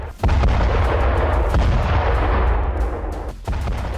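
Heavy rumbling blasts and dense, continuous booming from explosions at a weapons depot in wartime, loud and overlapping with a sharp burst near the end.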